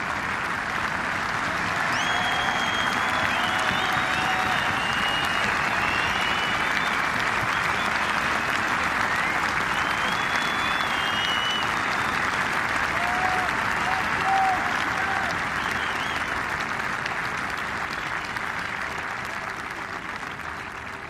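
Steady, sustained applause from golf galleries lining both sides of the 18th hole at The Open, a broad wash of clapping that holds for about twenty seconds before easing off slightly, with a few distant shouts.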